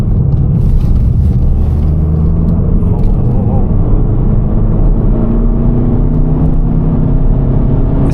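A VW Golf GTD stuck in limp mode labours as it speeds up on the road at night, its engine a steady, heavy drone with low rumble throughout and no clear rise in revs.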